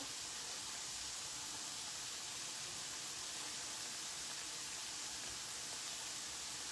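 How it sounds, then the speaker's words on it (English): Tofu cooking in a pan gives a faint, steady sizzling hiss that runs unbroken and even from start to end. "Okay, so we got this tofu cooking down."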